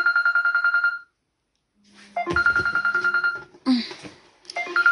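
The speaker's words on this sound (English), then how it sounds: "Your phone is ringing." A telephone rings loudly and nearby in repeated electronic bursts, stopping for a moment of silence, then ringing again while other household sounds and voices come and go between the rings.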